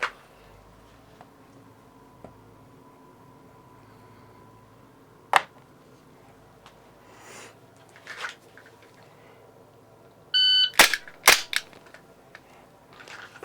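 Gunshots ring out in a timed shooting drill as a few sharp, isolated cracks spaced across a quiet stretch, followed by a quick cluster of shots near the end, all fairly distant against a low background hum.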